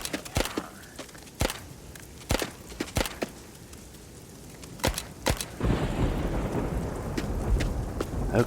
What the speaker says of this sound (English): Storm effect's pretty good.